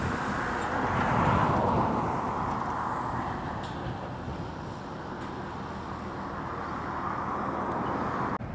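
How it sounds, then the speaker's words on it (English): A fresh Volvo FH Globetrotter truck from a family-run Oldham haulage firm rolls past at a truck stop on the A5 at Cannock, a steady broad roadway rumble with some wind that swells early and then holds. "now a lovely fresh Volvo FH Globetrotter from Kelvin Lord"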